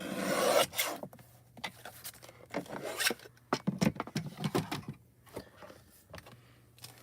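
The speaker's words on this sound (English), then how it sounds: "I'm going to cut it at 4 1/4." A paper trimmer slices card stock for a foil craft project, with close, sharp rasping strokes and scattered clicks and shuffles in a quiet room.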